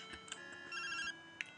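A phone call rings in Pokémon Gold Version with a quiet, chirpy electronic chiptune trill, a short repeating ring pattern heard alone at low volume.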